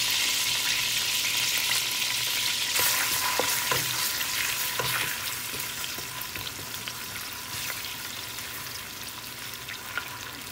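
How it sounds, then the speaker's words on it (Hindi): Garlic ginger paste frying in hot oil for a spicy chicken pickle dish: loud, crackling sizzle up close, with stirring scrapes and pops that ease into a quieter steady sizzle, no talk. "अब हम इसमें लहसुन अदरक का पेस्ट डालेंगे।"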